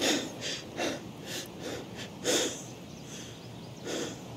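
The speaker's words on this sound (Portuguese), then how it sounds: "O tempo todo cansado, respiração ofegante" A fatigued Escape from Tarkov game character pants heavily, a steady run of short, raspy breaths repeating roughly every second, moderately close, over a low background hiss.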